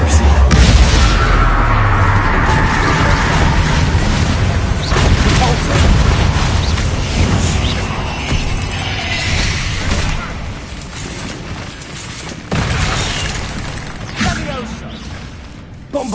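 Bombarda explosion spell in Hogwarts Legacy, repeated in combat: a loud, dense stretch of booming blasts and crashing impacts, with several sharp bursts standing out over continuous rumbling game noise.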